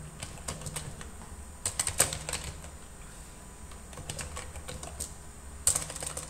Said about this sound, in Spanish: Escribo aquí el título del mapa conceptual.